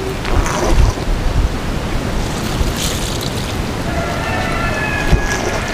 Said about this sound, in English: I'll just water that in with my blue bandaged Hawes watering can